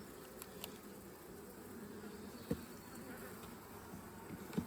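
Carniolan honey bees hum and buzz steadily inside an opened hive, a soft continuous drone with a few louder bees passing close.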